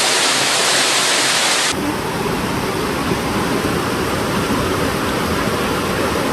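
Floodwater from a heavy rainstorm surges through city streets in Samsun, a loud, continuous rushing roar with no pauses; the texture shifts abruptly early on, then holds a steady torrent.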